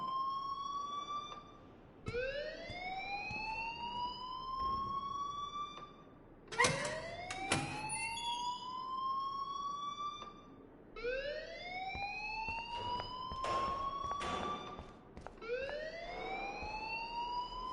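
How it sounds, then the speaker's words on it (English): A rising, wailing alarm siren sounds repeatedly in long upward sweeps, each cut by brief sharp bursts, steady and moderately loud with no voices. "please turn off that alarm since that's your job."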